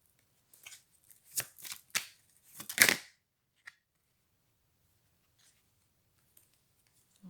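Tarot cards are handled and laid out, producing a few quick close riffling and slapping bursts early on, followed by near silence with a couple of faint taps.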